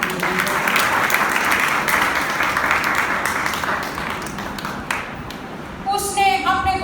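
An audience claps loudly at a Christian gathering, a dense, sustained burst of applause that thins out toward the end as a voice begins speaking over it.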